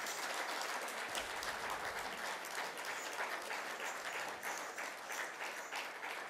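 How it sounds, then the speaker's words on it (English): A large audience gives dense, sustained applause after an Odissi dance lecture-demonstration at a cultural programme; the clapping stays loud and steady for the whole stretch, with no voices. "And I call you a big, big round of applause for Madhavi ji."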